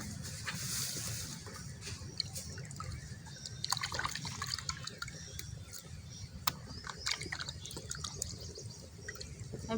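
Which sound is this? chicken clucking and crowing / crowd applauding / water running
water running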